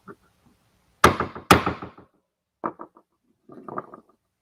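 A hammer lands two sharp, loud blows about half a second apart, then a few softer knocks and a scattered cluster of lighter taps, separated by quiet gaps.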